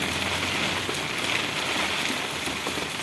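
Light rain falls steadily in Quixeramobim, Ceará, a constant soft hiss of drops on surfaces with no break and no voices.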